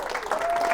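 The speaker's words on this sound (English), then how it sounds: "you don't even know why you're clapping for him" A short burst of applause from an audience clapping for Jeff, chair of the Highlands GOP, at a political event. The dense, steady clapping fills the brief moment, with a voice faintly audible over it.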